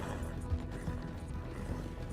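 A horse galloping in a Red Dead Redemption 2 Online race, video game, with a dense, loud rumble of hoofbeats and racing noise running continuously throughout, no talking.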